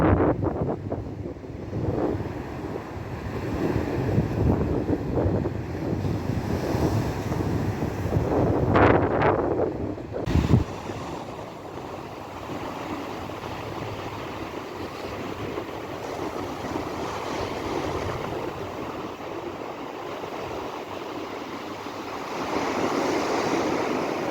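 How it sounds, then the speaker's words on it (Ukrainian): Strong wind buffets and roars across the microphone for a long stretch on an Odesa beach at dawn, with crashing surf underneath and a sudden loud gust thump midway. "а вітер просто скажений, просто скаженіє"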